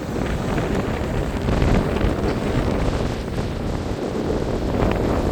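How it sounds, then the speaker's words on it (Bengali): Strong wind buffets the microphone over a constant roar of sea waves on a Saudi Arabian coast in the morning, loud and unbroken throughout. "সমুদ্রের গর্জন সমুদ্রের ঢেউ"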